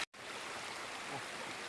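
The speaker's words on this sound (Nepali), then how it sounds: "यहाँको पानीको धारा चाहिँ यति छ गाइज" Flowing water stream in hilly Nepal, a steady, broad rushing sound at moderate volume, continuous and unbroken after a brief cut at the start.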